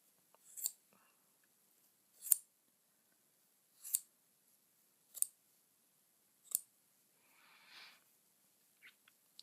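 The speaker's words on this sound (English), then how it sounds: "So now we have that secure in the centre, I can cut all the loops" Five crisp snips of scissors cutting through the yarn loops of a rustic pom-pom, evenly spaced and close, with a soft rustle of yarn afterward in an otherwise quiet room.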